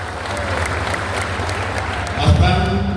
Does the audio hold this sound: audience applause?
yes